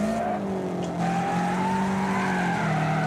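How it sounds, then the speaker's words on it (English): Car tyres squealing and skidding through a drift during a Wreckfest race, a sustained screech with engine drone underneath, steady and loud for the whole stretch with no pauses. "We're getting some nice drifts."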